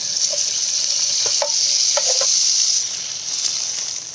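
Bengal gram and coriander pancake sizzling in a non-stick pan with a little butter, a steady bright frying hiss broken by a few small pops and spatters, close and continuous.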